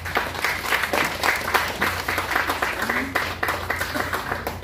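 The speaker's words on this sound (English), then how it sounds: "Can we have a round of applause?" An indoor crowd at a Pacific Island pageant reception breaks into steady, dense applause, with many hands clapping at moderate loudness throughout.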